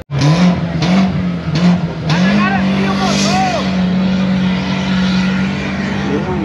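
Renault Duster 4x4 engine droning and revving steadily at an off-road challenge, loud and continuous throughout, with people talking over it.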